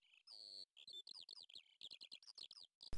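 A skylark sings a quick, varied run of bright chirps and trills as it flies up, clear and close, with brief pauses between phrases.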